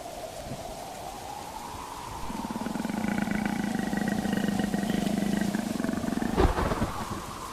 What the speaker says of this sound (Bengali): বাঘের গর্জন শোনা যাচ্ছে।